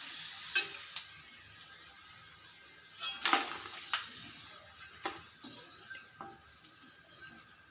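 Cluster beans frying in hot oil, a soft steady sizzle punctuated by sharp ticks and scraping stirs of a utensil against the pan, close and fairly quiet.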